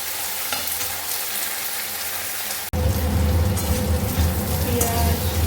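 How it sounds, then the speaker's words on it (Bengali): Puti fish frying in a pan with onion, garlic and green chilli: a moderate hiss jumps to a loud, steady crackling sizzle halfway through and keeps going to the end. "এই যে পুঁটি মাছগুলো ভালো করে ভেজে নেব"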